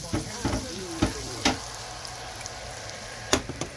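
Butter sizzles in a pan for cooking snails, a steady close hiss broken by a few sharp utensil clicks and scrapes, with no talking.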